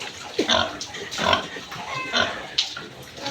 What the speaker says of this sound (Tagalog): kunin niyo na po itong mga buntis kong baboy